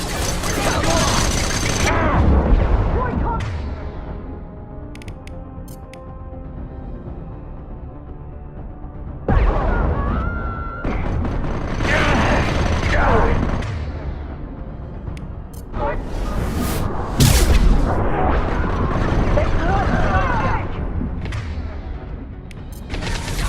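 Heavy video game combat in Mass Effect 2 Legendary Edition, with loud bursts of automatic gunfire and booms throughout, while shouted character voices call out over the shooting.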